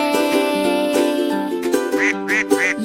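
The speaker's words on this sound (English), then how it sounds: "Look at those ducks!" Cartoon ducks quack in a bright, repeated series over cheerful music in a children's animated story about five colorful ducks playing by a pond, the calls rising in several quick bursts near the end.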